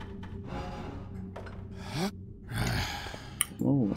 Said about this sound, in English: Oh, I love that creepy breathing noise in that ambience.